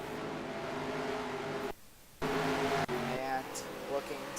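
Race car engines drone steadily on an oval track in the NASCAR Racing 2003 video game, a loud continuous whine that cuts out briefly and then returns, under a commentator's talk.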